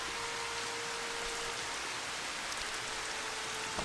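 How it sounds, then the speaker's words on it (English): Steady rain hisses evenly in Final Fantasy XV, a dense continuous wash of drops with a faint sustained tone underneath and no voices. "I want it to be rainy and I want it to be at night."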